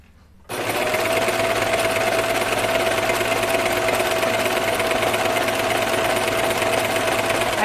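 A sewing machine stitching a knit dress starts abruptly after a brief quiet moment, then runs in a fast, steady mechanical whir with a constant motor hum, close and unaccompanied by talk.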